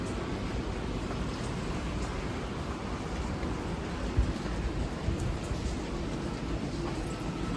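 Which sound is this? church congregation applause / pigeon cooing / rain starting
rain starting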